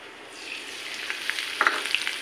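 Oil for a kadhi tempering sizzling with cumin seeds, whole red chilies and curry leaves, a steady close hiss that grows busier, with sharp crackles and pops toward the end.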